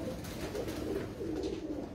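Flying pigeons coo in low, rolling, throaty murmurs that overlap continuously at moderate distance, with no talking over them.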